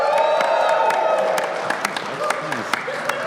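Live audience at a beer-history show in a brewery gives a burst of dense clapping and cheering that thins into scattered claps and a few whoops, with a voice speaking over it.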